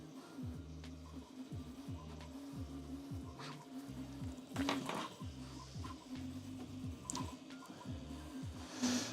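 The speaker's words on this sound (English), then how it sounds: "Just setting noise gate a bit higher, so we don't get that much printer noise." A Prusa Mini+ 3D printer runs with rapid, repeating stepper-motor tones in short rhythmic bursts over a steady low hum, fairly faint, with occasional clicks and no speech.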